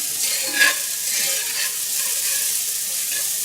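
Shallot and garlic sweat in a pan over medium heat, giving a steady, soft, even sizzle with one brief clink of stirring early on.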